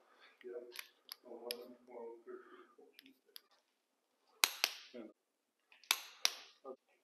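A torque wrench clicks sharply as the small intake-side ARP head bolts on an LS cylinder head are tightened to 25 foot-pounds, two crisp snaps between quieter talk and tool handling nearby.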